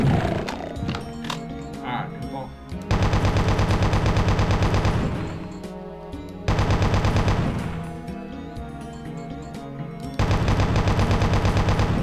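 Rapid bursts of gunfire in the video game Epic ring out in loud, repeated volleys over a layer of game music, with pauses between the bursts.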